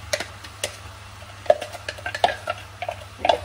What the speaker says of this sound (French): je rajoute mes oignons et l'ail